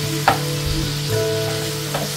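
Pork and beef sizzling in a frying pan with onion and a little oil, a steady hiss with a few stirring scrapes and no talk.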